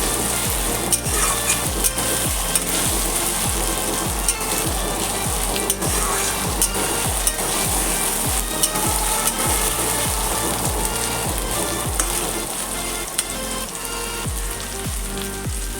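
Small chopped tomatoes sizzle in a hot pan of oil for a red chicken curry, a steady crackling fry broken by regular scraping stirs of a spatula, with no talking.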